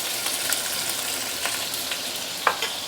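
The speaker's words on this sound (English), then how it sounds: "I'm going to pan fry the" Potatoes pan frying in oil in a wok, a steady close sizzle with a few light scrapes and a small sharp tap near the end, no voices.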